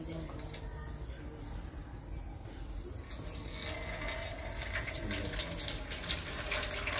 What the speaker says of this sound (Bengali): জল দাও, এটা গঙ্গা জল।